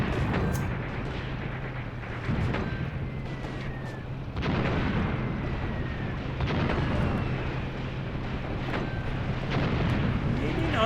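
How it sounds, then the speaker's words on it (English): Friendly artillery shells land during a Red Army Eastern Front battle in a war video game: dull booms and cracks roll over a constant battlefield rumble, with scattered higher whistles and pops throughout. "Friendly artillery."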